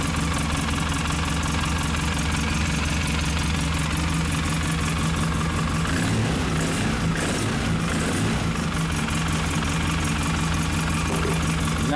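Old engine with a carburetor in need of cleaning idles steadily throughout, a continuous low rumble with a faint knocking texture, close and fairly loud with no talk.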